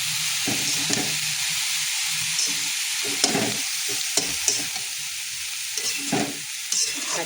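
Chickpea greens (chana saag) fry in a pan, a continuous sizzle broken by repeated scraping stirs and occasional clatters of the spatula, close and moderately loud with no talk.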